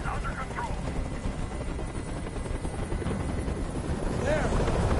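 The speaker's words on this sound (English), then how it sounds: "Tell that helicopter to get out of here." Helicopter rotor thrumming steadily overhead in a video game set in Detroit, a constant low chop filling the scene with people talking over it.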